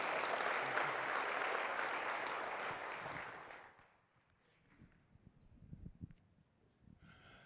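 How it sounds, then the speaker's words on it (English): A Shine Celebration audience breaks into loud, full applause for the performers, holding steady for several seconds before fading into a quiet room with a few scattered sounds. "let's give another round of applause for Michelle Perdue and Miss Carol"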